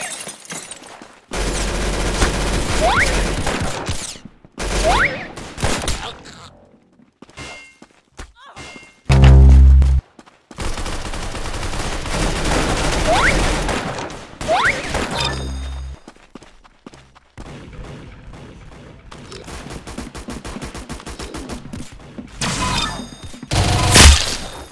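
Video game gunfire in competitive game mode: heavy, booming shots and rapid bursts come in dense, loud clusters, separated by brief silent gaps, with the final bursts near the end.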